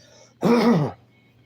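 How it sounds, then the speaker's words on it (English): A single throat clearing, close and fairly loud, lasting about half a second, with quiet room tone before and after. "Excuse me, I had to clear my throat."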